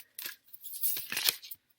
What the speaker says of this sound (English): I am just shuffling the cards